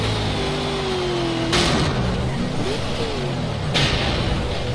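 Racing car engines, including a BMW and a Mustang, drone and rev steadily in a driving video game, with pitch shifts as cars change gear and a couple of sharp whooshes as vehicles pass.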